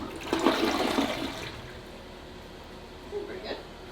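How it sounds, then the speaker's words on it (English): A newly installed toilet flushes once, a rushing gush of water that swells quickly and then fades into a quieter trickle and refill, heard close up in a small bathroom. "I'm about to flush it now."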